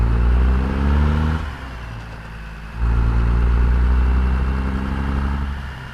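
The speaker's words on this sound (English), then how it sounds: "We'll do a little Jake shift in there for you." A tuned Cat C16 diesel Peterbilt with 8-inch straight pipes pulls along a road, its loud, heavy exhaust note dropping off for a moment mid-way as it shifts, then droning back up and holding steady.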